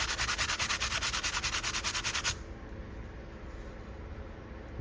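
An electric guitar body is sanded with 180 grit sandpaper wrapped on a sponge, a rapid rhythmic back-and-forth scratching for about two seconds before it stops, leaving quiet room noise.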